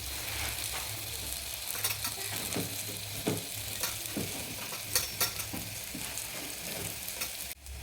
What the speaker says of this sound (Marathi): आपण याला थोडंसं फिरवून घ्यायचं आणि मग थोडीशी पुन्हा हळद टाकून घ्यायची